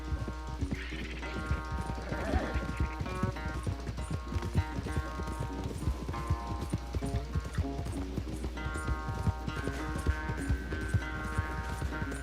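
A horse gallops in Red Dead Redemption 2, steady clip-clop hoofbeats running continuously with an occasional whinny, over a constant low game hum and faint background music.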